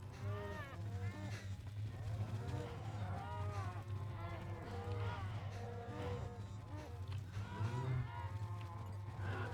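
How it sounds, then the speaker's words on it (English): Many cattle at feeding time moo repeatedly in a dense, overlapping chorus that carries on throughout, some calls loud and near and others farther off, over a steady low hum and a faint buzz of flies. "Gotta feed the cows."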